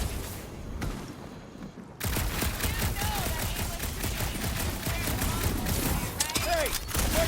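Rapid bursts of gunfire and blaster shots in a Guardians of the Galaxy video game on a dark monster planet, loud and continuous in a dense fusillade, with a brief quieter lull at the start.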